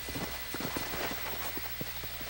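Horse hooves in the Red Dead Redemption video game clop in a steady walking rhythm, soft and mid-distance, over a constant wash of background game ambience.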